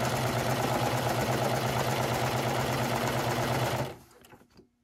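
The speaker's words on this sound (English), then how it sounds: "So I'm just going to serge and try not to cut anything off." A serger freshly threaded runs along the fly piece of a pair of pants, whirring with a steady, busy mechanical hum at close range for nearly four seconds before winding down to quiet.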